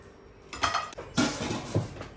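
Roasted moong dal being tipped from a pan onto a plate in a home kitchen: three short clattering scrapes and knocks of metal against the plate, close and fairly loud, with no talking.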